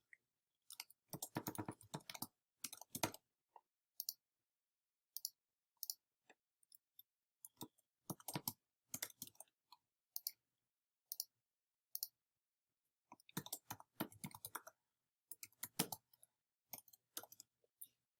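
A computer keyboard clicks in short, quiet bursts of typing separated by pauses, as a class name is entered, close-up with no voices.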